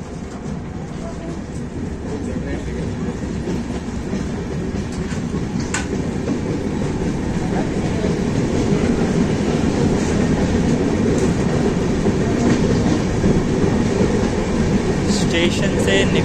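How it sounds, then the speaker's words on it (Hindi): An Indian express train picks up speed out of a railway station, its wheels rumbling and clattering steadily, the loud ride noise swelling gradually with faint squeals on top. "स्टेशन से निकलते ही गजब का एक्सेलरेशन पकड़ा है ट्रेन ने।"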